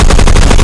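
Rapid automatic fire from an FAL Para shorty rifle in the video game Phantom Forces during close-quarters combat, a loud, dense burst of shots in quick succession with no talk.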